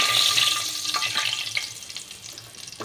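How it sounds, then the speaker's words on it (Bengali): Bay leaves sizzle in hot oil in a wok while a mutton curry is being cooked, a steady close frying hiss with a few brief pops and crackles. "এবার আমি কড়াইতে তেজপাতা দিয়ে দিলাম।"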